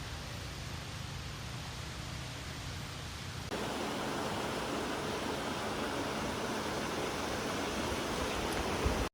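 Steady broadband rush of a waterfall in Kirinyaga County, Kenya, continuous and fairly loud, swelling noticeably partway through as if coming closer, with no voices.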